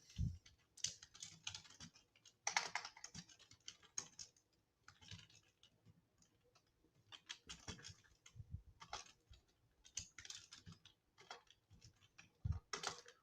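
Quiet, close keyboard typing while writing Flask login code, irregular bursts of clicks and taps with pauses between them, spread over several seconds and no speech.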